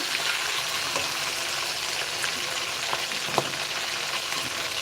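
Fish bones fry in hot oil with a continuous, even crackling hiss and a few faint clinks, and no one speaks.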